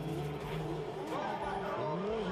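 Drift race cars accelerate at a drifting event in Logoisk, with engines revving and rising in pitch, loud and continuous, heard moderately near.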